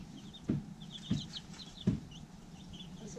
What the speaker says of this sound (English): I think one is a rooster.